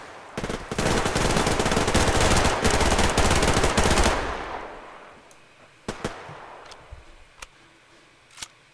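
Rapid automatic gunfire in the video game Survarium rattles loudly for about four seconds, then dies away into a handful of single, spaced-out shots.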